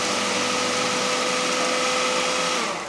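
An electric chopper whirring through onions for shami kabab, a loud, steady motor whine that holds evenly for nearly three seconds before easing off at the very end.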